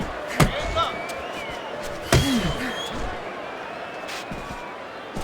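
Punches landing in the Fight Night Champion boxing game, two sharp heavy thuds about two seconds apart over steady arena crowd noise, with a commentator talking over the action.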